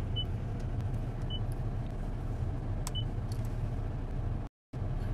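A car drives along with a steady, muffled rumble of road and engine noise heard from inside, a few faint clicks and ticks on top, and a brief dropout near the end.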